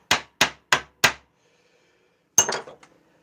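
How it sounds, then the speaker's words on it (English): A small cross peen hammer with a thin spring handle taps four quick, evenly spaced sharp strikes, then after a pause one more ringing hit followed by a few lighter bounces, close and clear. "I don't know what you call this hammer, a little mini cross peen something"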